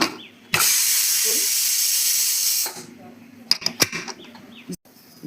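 A pressure cooker cooking chicken curry whistles as a loud, continuous hiss of steam bursts out for about two seconds and then cuts off, followed by rattling clatter and faint background sounds.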